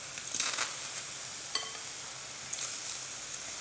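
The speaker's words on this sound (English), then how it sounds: "You can hear the sizzle." Steady high sizzling hiss of pineapple frying on a hot grill, with a few small pops and crackles, no voices.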